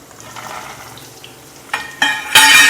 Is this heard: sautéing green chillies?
yes